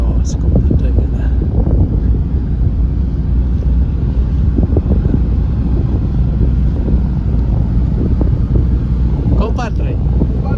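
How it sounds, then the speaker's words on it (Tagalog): A ship's engine runs on deck at sea, a loud, constant low rumble mixed with heavy wind buffeting, with people talking over it at times. "Nandyan yung makina."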